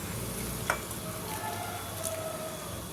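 Peanuts sizzle and fry in hot oil for a poha tempering, a steady soft crackling hiss with a couple of brief sharper spatters, close and fairly quiet, no voices.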